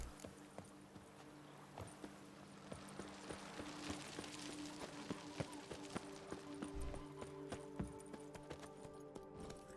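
Horse hooves clip-clop at a steady riding rhythm in the Witcher 3 game world, a soft even patter of hoofbeats running throughout over a low ambient bed, moderately quiet.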